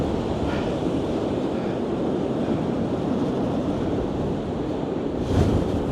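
Stormy high-tide sea waves pound against South Pier in Blackpool, a continuous loud roar of surf with wind noise across the microphone and a heavier crash near the end.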